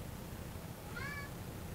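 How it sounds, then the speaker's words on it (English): A single faint cat meow, short and rising, sounds once amid a steady low background hum in a quiet room. "Oh, cat's talking to you."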